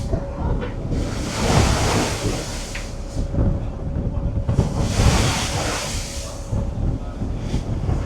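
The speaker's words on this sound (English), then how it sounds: "Look at the swells now, they're just unbelievable." Ocean swells surge and crash in two big rushing waves during a Sydney harbour ferry ride, with wind buffeting the microphone, a steady engine hum underneath and a voice speaking between the splashes.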